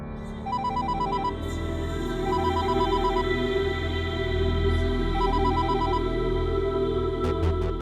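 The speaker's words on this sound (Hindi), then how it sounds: "प्रिंसिपल भी फोन नहीं उठा रहे हैं।" A phone rings in repeated short bursts that recur several times and go unanswered, set against a steady background hum.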